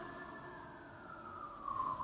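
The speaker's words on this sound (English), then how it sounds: "there's just like a fire truck going by" A fire truck siren passes outside, heard from indoors as a steady, fairly faint wail that swells slightly near the end.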